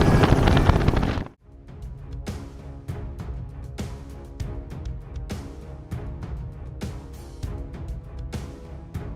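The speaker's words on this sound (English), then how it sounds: "our chopper lifted off." A helicopter lifts off at sunrise for a wild hog hunt over woods and cornfields, a loud roar that drops away and gives way to steady rhythmic rotor thumping close by.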